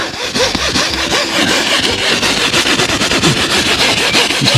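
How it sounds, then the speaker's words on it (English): A small scrubbing brush works cleaner into a Thule Omnistor motorhome awning, giving a steady, close, continuous rasping scrub with quick back-and-forth strokes and no talking. "I'm just applying it on this little scrubbing brush, just giving it a little agitation with that"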